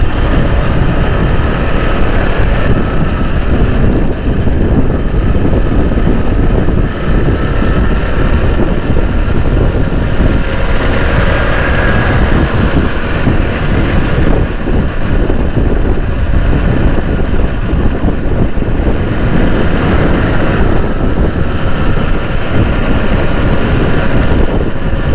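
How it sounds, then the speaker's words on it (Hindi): Strong cold wind roars and buffets the microphone of a moving motorcycle riding through Karachi from Johar Mor to Saddar, a loud, unbroken rumbling gust with a low engine drone beneath and no talking. "बड़ी सख्त ठंडी हवाएं चल रही हैं भाई, बड़ी ज़बरदस्त किस्म की"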